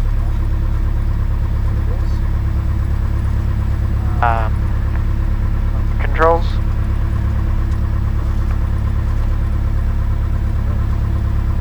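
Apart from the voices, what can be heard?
Cessna 172 aircraft engine run-up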